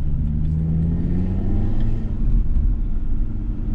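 A 400 hp Audi RS3 engine accelerates, heard from inside as a steady low rumbling drone that swells slightly, with no talk over it.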